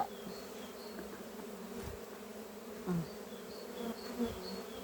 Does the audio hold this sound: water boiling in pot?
no